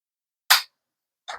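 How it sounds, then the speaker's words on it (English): Carrera digital slot car track pieces snapping together, giving two short, crisp, firm clicks spaced nearly a second apart against silence. "when you snap them in, you'll hear a nice firm click, so you know it's nice and tight"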